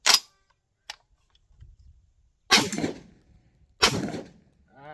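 A Tokarev TT12 shotgun fires at a range: three sharp, loud blasts at irregular intervals, each with a short ringing decay, plus a faint metallic click between the first two shots.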